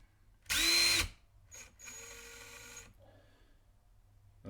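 A Ryobi cordless impact driver whirs loudly in one short burst, then runs again at a lower, steadier pitch for about a second before stopping.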